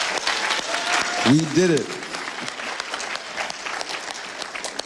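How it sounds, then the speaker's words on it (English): An audience claps steadily for graduates of a business accelerator landing ceremony, a dense wash of applause filling the room throughout, with a voice briefly calling out over it. "I ask that you give yourselves a huge round of applause."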